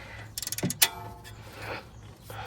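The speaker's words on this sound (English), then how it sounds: "I'm just torquing it to just about right." A torque wrench ratchets on a brake caliper bolt of a 2021–2025 BMW 230i, 330i or 430i, giving a quick run of close metallic clicks followed by a sharp clack and faint rattling.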